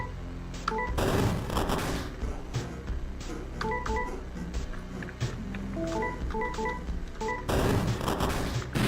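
Shotgun blasts in a fast-paced game jam action game, sharp broadband bursts near the start and again near the end, over a constant busy bed of game effects and beeping tones.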